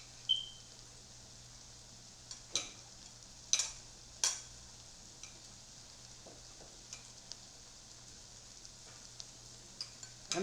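Onions, red bell peppers, garlic and jalapeno frying in a pan for corn maque choux, a faint low sizzle broken by several sharp scraping stirs and clacks spaced through the clip, with no speech.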